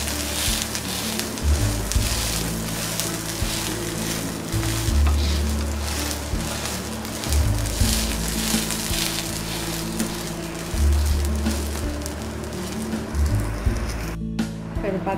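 An onion uttapam made from kodo millet batter sizzles steadily on a hot pan, a continuous crackling fry with occasional scraping and pressing sounds, close and fairly loud throughout.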